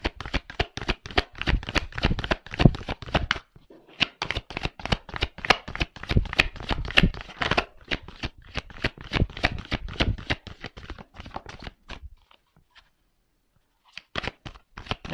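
Tarot cards shuffled in quick rhythmic bursts of riffling and flicking, with short pauses before cards are drawn; close and crisp, no talking.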